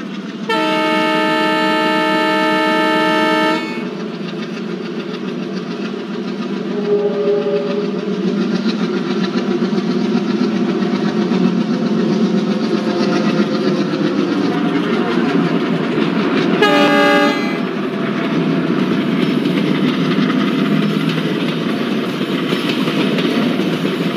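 The Yesvantpur–Howrah Duronto Express roars past close by at speed, opening with a long loud horn blast, rumbling wheels and clatter throughout, and a second short horn burst midway.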